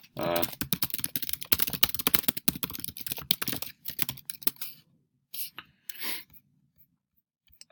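Close, fast typing on a computer keyboard, dense clattering keystrokes in bursts that thin out into a few isolated taps before going quiet.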